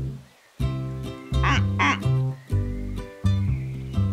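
A cartoon duck quacks in a children's farm-animal song, with repeated quack-like calls over a loud, steady musical backing of melody and bass.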